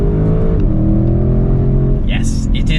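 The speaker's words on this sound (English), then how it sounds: "Listen to it. There it is. The familiar 4-litre twin turbocharged" The 4-litre twin-turbo V8 of a 2020 Audi RS6 Avant drones steadily from inside the car, with the pitch stepping as it revs, while a voice talks over it.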